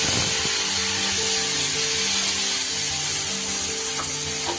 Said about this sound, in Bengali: পেস্ট করে রাখা মশলাটা দিয়ে দিলাম